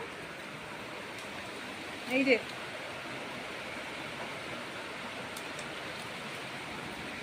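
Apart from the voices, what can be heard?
heavy rain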